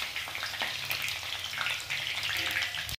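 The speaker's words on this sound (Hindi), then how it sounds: "बाकी की बची हुई गोभी को भी इसी तरीके से हम फ्राई कर लेते हैं।" Cauliflower pieces fry in hot oil with a dense, crackling sizzle and scattered pops throughout, close and steady before cutting off abruptly at the end, no talking.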